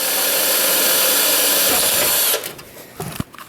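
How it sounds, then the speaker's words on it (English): Drill bores a hole through plastic backing behind a steel panel on a hot rod gauge cluster build, a loud steady whine for over two seconds, then cutting off into brief clicks and handling noises. "I can just drill out the hole in the plastic behind the steel here."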